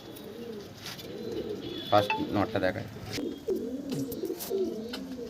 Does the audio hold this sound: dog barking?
no